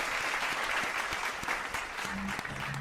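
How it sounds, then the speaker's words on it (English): Steady applause from an audience for a guest at the close of an SEO ask-me-anything show, a continuous wash of clapping at moderate level. "Let's give her a round of applause."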